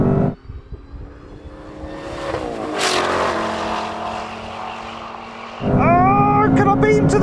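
Mustang and BMW M4 in a drag race, engine revving hard through gears with a shift dip near the middle, then a loud surge of acceleration; a voice speaks briefly over the engine.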